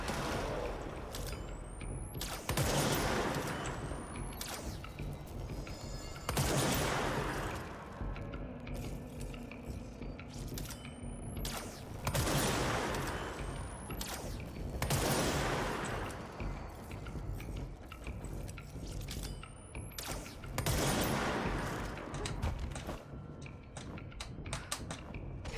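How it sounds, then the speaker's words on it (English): Artillery fire in the video game Control: repeated heavy booming blasts, roughly every five to six seconds, each with a long rumbling tail over a constant dense background of game noise. "Artillery!"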